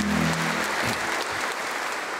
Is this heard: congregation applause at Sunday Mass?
yes